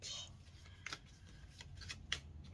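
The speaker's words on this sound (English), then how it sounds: "Let me give it one swift Vegas shuffle" A deck of tarot cards is shuffled quickly, giving faint, quiet riffles and soft flicks in a few short bursts up close, with low room noise beneath.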